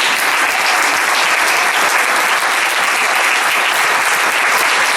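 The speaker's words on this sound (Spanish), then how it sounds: "Den un aplauso fuerte al Señor." A church congregation gives strong, dense applause during a Spanish-language service, a loud continuous wash of many clapping hands sustained throughout with no voices standing out.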